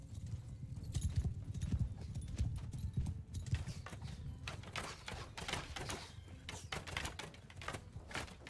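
Horse archers gallop across a battlefield in the video game Bannerlord, a dense, continuous clatter of many hooves drumming close and loud throughout, with no talk over it.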